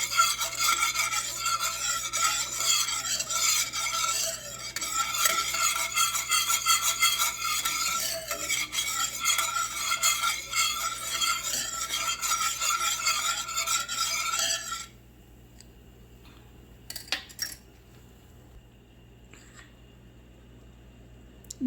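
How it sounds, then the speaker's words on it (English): Spoon stirring mac and cheese sauce in a pot, a continuous close scraping rasp for about fifteen seconds, then it stops, leaving quiet with a few faint clinks. "Give this a good stir, making sure that everything is all incorporated and mixed in there"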